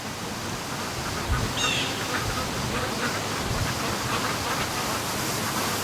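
Ducks call faintly as they swim home, a few quacks rising over a constant windy background hiss.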